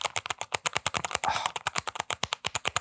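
Typing on an ergonomic split mechanical keyboard fitted with Gateron Yellow pudding switches, a close, steady run of crisp keystrokes in quick succession with no voices.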